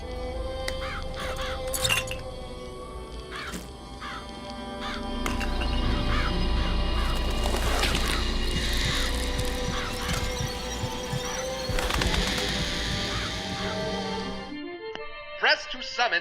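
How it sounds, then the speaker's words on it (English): Crows summoned by the Murder of Crows vigor in Bioshock Infinite caw loudly and repeatedly over a humming game soundscape, with a voice speaking through parts of it before the sound cuts out near the end. "Press to summon murderous crows."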